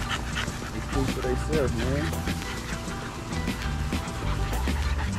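American bully dogs playing nearby with bursts of yips, whines and panting over a busy outdoor background, while someone talks.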